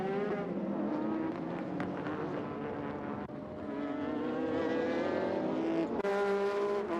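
GT race cars, including a Honda NSX, Nissan Skyline and Toyota Supra, battling in a 1999 JGTC race: loud, continuous engine howls with shifting pitch as cars pass close, overlapping one another.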